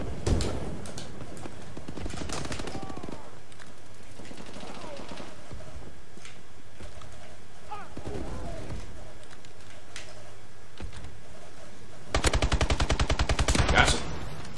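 Rapid automatic gunfire bursts in Call of Duty: Advanced Warfare multiplayer, scattered shots early and a dense, loud burst near the end, over game ambience.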